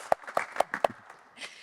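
Scattered claps from a small audience at a conversation event: a handful of separate, fairly faint claps that quickly fade into quiet room noise.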